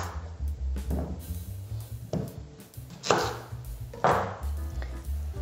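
A knife cuts potatoes in half on a board, giving about half a dozen distinct chopping thuds spaced irregularly, close and fairly quiet.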